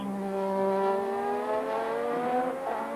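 Honda-powered Formula One race car at the Belgian Grand Prix at Spa-Francorchamps, its engine a loud sustained high-pitched whine with harmonics sliding steadily as it accelerates past, continuous for three seconds with no talk.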